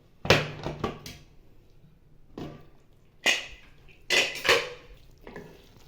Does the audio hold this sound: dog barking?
no